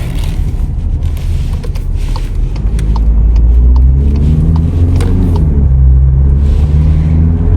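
A 2020 Volkswagen Passat B8 2.0 diesel 110 kW engine drones loudly with a low, steady rumble, its pitch rising and shifting as it revs up while driving.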